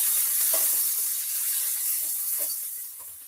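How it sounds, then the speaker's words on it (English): Ingredients sautéing in hot oil for smoked herring with butter beans and crushed pumpkin, a loud, steady hissing sizzle with faint soft crackles throughout and no talking. "So I'm just throwing this in the oil. So we can saute this."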